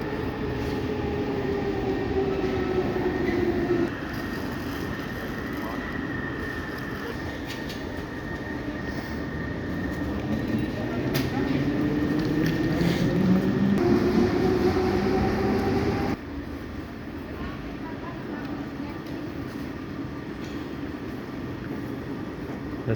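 An S-Bahn train in a German station rumbles steadily, with its motor tones rising and falling as it moves and a sudden drop in level near the end, with no voices.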